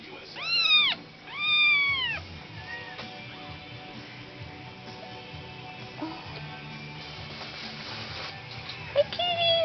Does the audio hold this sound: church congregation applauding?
no